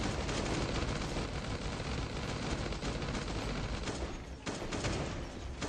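A rapid, continuous stream of minigun fire in a video game roars nonstop, dense and loud, briefly dipping near the end before resuming.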